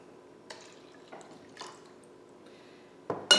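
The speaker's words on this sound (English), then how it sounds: "Now we're going to add that 1/4 cup plus 2 tablespoons of the simple syrup, cherry simple syrup," Cherry simple syrup poured into a cup for a cherry limeade, with a few soft separate drips and trickles followed by a louder splash of liquid at the end, no talking.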